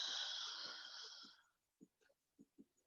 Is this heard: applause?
no